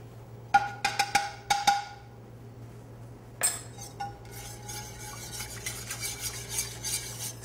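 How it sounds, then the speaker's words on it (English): A whisk or spoon stirring cream with a vanilla bean in a pot for panna cotta, starting with a quick run of sharp metallic clinks against the pot, then continuous scraping and swishing stirs, close up with a low hum beneath. "I've been stirring it just to kind of make sure that the vanilla bean gets mixed around."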